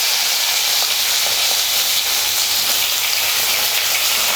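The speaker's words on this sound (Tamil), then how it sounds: "நம்ம கட் பண்ணி வச்சுருக்கிற கத்திரிக்காயை இதில் சேர்த்துக்கலாம்." Cut eggplant, about 200 grams, frying in hot oil with popped mustard seeds for a Tamil eggplant curry, producing a loud, dense, continuous sizzle close by without any voices.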